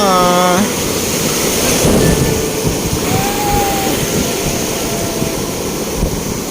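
Ocean waves wash and roar steadily at a beach in Nasugbu, Batangas, a loud continuous surf rumble filling the whole stretch, with a brief voice at the very start.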